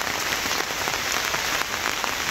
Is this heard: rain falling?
yes